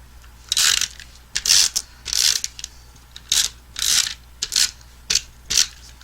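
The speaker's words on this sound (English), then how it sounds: "We could use tape runner for that." A tape runner lays adhesive onto paper in a series of about ten short, close, raspy strokes with a crackly, mechanical texture, each separated by brief pauses, with no voices.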